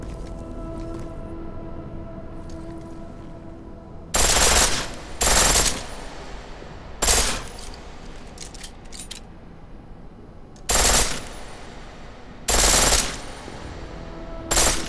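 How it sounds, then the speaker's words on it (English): A pistol set to full auto in Deus Ex: Mankind Divided, firing in several short loud bursts separated by pauses over a constant background hum of game ambience. "The pistol in full auto will take down targets fast, but it'll burn through your ammo."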